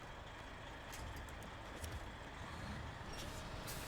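A heavy truck engine in the SnowRunner game drones as a steady low rumble throughout, fairly quiet and unbroken, with no talk over it.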